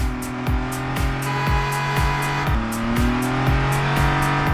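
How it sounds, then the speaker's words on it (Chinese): A Maserati MC20 sports car engine in the Peacekeeper Elite mobile game hums loudly and steadily, with rhythmic thumping pulses layered over it throughout. "一款是双人跑车 MC20"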